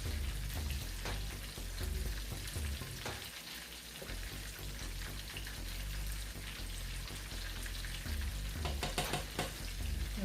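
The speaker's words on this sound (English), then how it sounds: "Stir it, make sure none of those are sticking to the bottom." Onions frying in a pot while being stirred, a steady close sizzle and crackle with soft scraping of a spoon against the bottom, and a low hum underneath.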